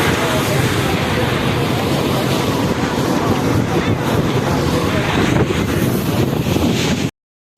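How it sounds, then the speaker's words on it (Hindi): Strong outdoor wind buffets the microphone in a loud, continuous roaring rumble that stays constant before cutting off abruptly at the end. "और यहाँ का देखिए, बहुत तेज हवा चल रही है यहाँ पे।"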